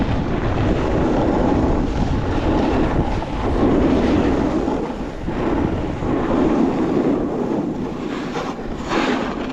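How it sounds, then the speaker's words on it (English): Strong wind buffets the microphone in a steady, loud roar with gusts, over rushing motion noise while snowboarding down a slope at Keystone; no talking. "It is so windy today."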